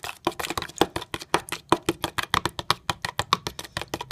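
Rapid, rhythmic clacking of a utensil whisking coconut oil, olive oil and eggs together in a bowl, many quick close taps in an even beat with no talk.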